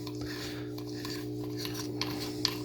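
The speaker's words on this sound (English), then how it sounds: "I'm going to start first by taking off the spool." Spool coming off a late-1950s Mitchell 300 spinning fishing reel, with faint metallic rubbing and small scraping clicks over a steady mechanical hum, close by and quiet.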